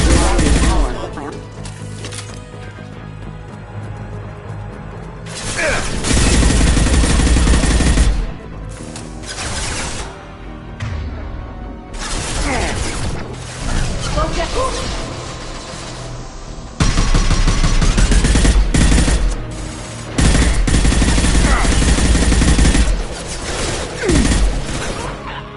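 Weapon gunfire in the Mass Effect 2 video game, loud bursts of rapid shots and heavy impacts in several bouts over about 25 seconds, with dense combat noise throughout.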